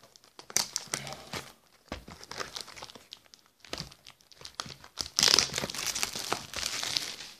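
Booster-pack display box being opened by hand, with crinkling and tearing of plastic wrap and cardboard in bursts, close and fairly loud, building to a sustained crackle near the end.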